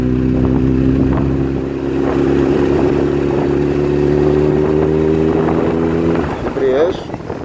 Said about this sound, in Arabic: زود بنزين.